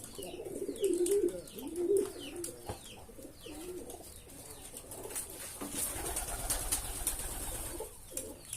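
A domestic pigeon kept in a backyard loft coos close by in low, throaty phrases that come and go, against faint background chirps and rustling.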